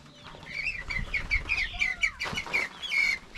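Chicks and chickens cluck and cheep in quick repeated calls, close by and fairly loud, with a steady rustle of farmyard noise underneath and no talking.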